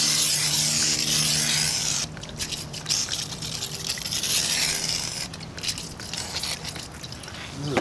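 A spray can of cleaner hisses in long bursts over the rear brake parts of a VW Tiguan, sputtering wetly as it runs low, close and alone.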